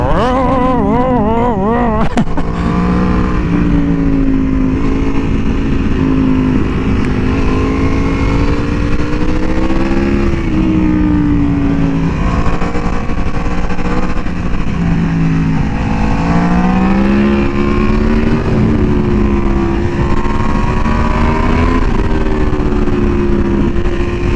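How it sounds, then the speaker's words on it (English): An Aprilia Tuono V4R motorcycle at full throttle out of a corner, rear wheel spinning: a loud, close engine howl that runs continuously, its pitch swelling and dipping with the throttle. "I love the sound this thing makes when full throttle out of a corner and the rear wheel is just spinning."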